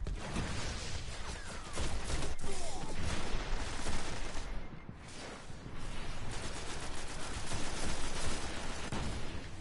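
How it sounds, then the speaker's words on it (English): Rockets and explosions in a multiplayer shooter battle, a dense continuous barrage of blasts and gunfire that stays loud throughout with no clear pauses. "Oh, rockets."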